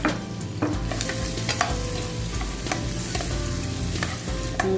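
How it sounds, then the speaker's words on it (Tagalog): Garlic and onion sauté in butter in a pan, sizzling loudly and continuously up close, punctuated by repeated spatula scrapes and stirring clatter, with no talking. "Hanggang sa mag-brown yung sibuyas."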